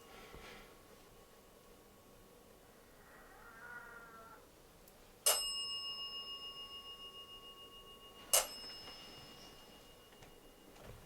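Inside an abandoned mountain farmhouse, a bell rings out twice, several seconds apart, each a sudden bright strike whose metallic tone hangs and slowly fades over a quiet, hissy room.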